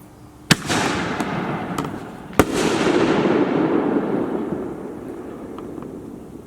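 Backyard fireworks going off: two sharp close bangs a couple of seconds apart, each followed by a long crackling, sizzling tail of bursts that slowly fades, with no voices heard.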